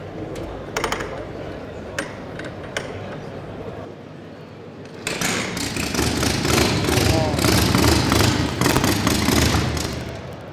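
A custom Indian motorcycle built for the Bonneville Salt Flats is kickstarted; after a few seconds of clicks and handling, the engine catches and runs loud and steady close by, with voices talking over it.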